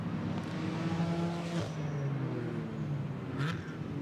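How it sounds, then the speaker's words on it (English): GT4 race cars, a mix of Mercedes, Toyota, Audi, Porsche, BMW, Chevrolet, McLaren and Alpine, roar along the Monza circuit towards the Variante Ascari, a steady loud engine drone with shifting pitches as several cars pass. "And the cars now make their way up towards the Variante Ascari."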